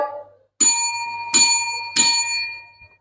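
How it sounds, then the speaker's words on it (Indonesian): A bell signalling the end of the trial time in a classroom rings three times in even succession, bright metallic dings with lingering ring-out, loud and close. "Kedua, akan ada bel."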